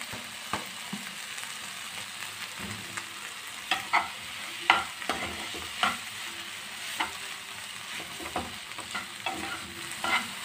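Maggi noodles stirred in a pan, irregular scraping and clacking strokes of a utensil over a faint sizzle, close and fairly soft, no talk.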